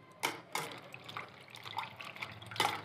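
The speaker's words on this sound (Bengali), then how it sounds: "এই যে ভালো করে ধুয়ে নিচ্ছি বন্ধুরা।" Peeled food is rinsed by hand in a pan of water, with faint, close splashes and sloshing bursts at an uneven pace against a quiet background.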